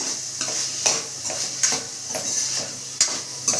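Carrot pieces sizzle steadily in a hot pan on a Telugu home stove while a spoon stirs them in repeated scraping strokes, clinking against the metal every second or so; the sizzle is close and moderate, with no talking.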